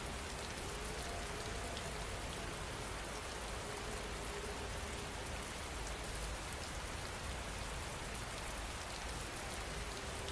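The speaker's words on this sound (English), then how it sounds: "you'll hear nothing but the rain" Steady rain falls, a dense continuous hiss of drops on surfaces, even in loudness throughout, with no voices or other sounds.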